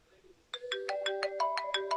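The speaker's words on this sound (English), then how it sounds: "And we got a phone call from Tim." A phone rings with an incoming call, a bright electronic ringtone of evenly pulsing melodic tones starting abruptly after a quiet moment, close and clear.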